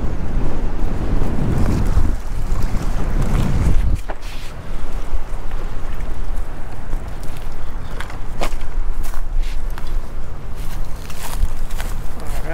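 Strong wind roars and buffets the microphone continuously on a fishing outing, with heavy low rumbling gusts and a brief lull before the blustering returns.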